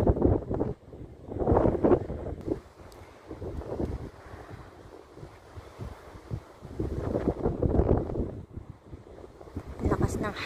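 Strong wind buffets the microphone in loud, rumbling gusts at Byron Bay beach in New South Wales, Australia, with people talking underneath throughout.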